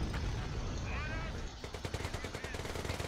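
Rapid bursts of machine-gun and rifle fire from a Company of Heroes World War II battle, dense and continuous, with artillery-like thumps and a caster talking over the combat.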